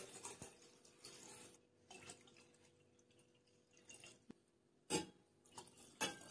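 Rice-washing water poured into a pongal pot in a kitchen, a soft trickle with a few louder splashes near the end, quiet and close.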